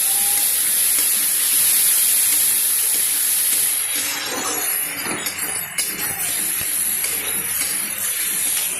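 Pasta with Everest meat masala frying in a pan over a gas flame, a steady close hiss and sizzle that continues throughout without talk.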